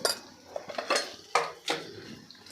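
A spoon stirs and scrapes through egg curry with spices in a metal pan, giving several sharp clinks and scrapes at an uneven pace, close and clear with no voice.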